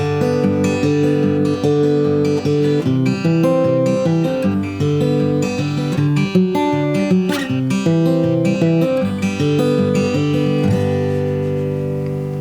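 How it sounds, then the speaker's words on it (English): Guitar played in Travis-style fingerpicking, a steady alternating bass under plucked melody notes, ringing clearly and alone at an even pace. "Our first pattern that we're going to look at is called Travis style picking."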